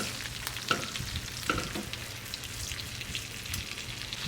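Steak searing in a pan with garlic, rosemary and thyme gives a steady close sizzle, broken by a few faint clinks and scrapes.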